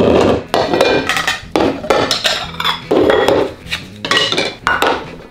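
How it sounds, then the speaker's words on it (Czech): Pots and a small frying pan are struck with wooden spoons in loud, uneven bursts of clanging and knocking, close and irregular, stopping and starting with no steady beat. "potom vařečky a hraj si na rockového bubenistu"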